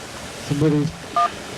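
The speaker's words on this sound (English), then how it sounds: "we're getting a phone call" Telephone touch-tone dialing beeps: a longer cluster of dual tones followed by a short single beep, heard near and clear with no talk over them.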